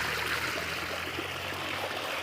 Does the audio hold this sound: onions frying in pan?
no